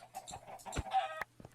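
Chickens in a mining and crafting video game cluck in several short, close bursts over a low steady hum, alone without talk.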